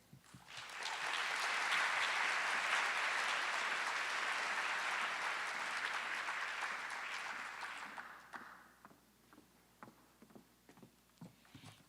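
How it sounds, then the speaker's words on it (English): A school leadership gathering's audience claps in a dense, steady burst of applause lasting several seconds, then it tapers to a few scattered claps. "Let's give them one more round of applause."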